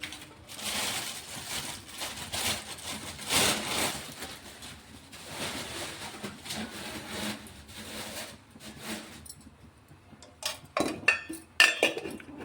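A metal bowl goes onto a gas stove amid steady clinks and scrapes of cooking utensils, with a few sharper, brighter clinks near the end, quiet and close.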